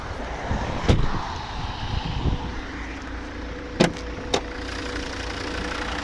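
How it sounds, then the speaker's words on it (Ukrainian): A Volvo five-cylinder engine runs at a steady idle with a low, even rumble, and a few sharp clicks and knocks stand out above the drone. "Зараз ще відкрию, покажу як працює двигун."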